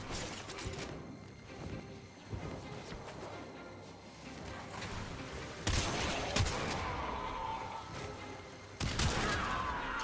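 Gunfire and impacts in the video game Warframe, a dense, steady barrage with several louder bursts near the end, heard alone without talk.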